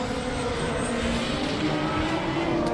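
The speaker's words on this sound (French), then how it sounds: "Mais c'est parti, round numéro 2. Et top déclenchement pour Anthony Rocci, suivi par Antoine Amar." Drift cars at a French drift championship launch into a battle run, a continuous loud engine roar from a distance that stays broad and even throughout, with no talk.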